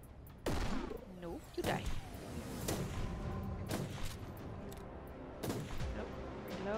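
Gunfire in the Warhammer 40,000: Inquisitor - Martyr game, several sharp loud shots and bursts spaced irregularly over a steady battle din, with a voice speaking briefly between them.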